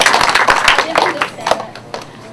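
Scattered, uneven clapping breaks out from a young audience of fourth graders welcoming author Carol Weston at a bookstore visit, with loud individual claps close by that thin out within a couple of seconds.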